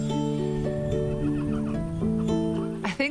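A retired racehorse at a horse sanctuary gives a loud, close neigh with clear wavering harmonics that rise and fall for about three seconds, ending in a short snort-like burst.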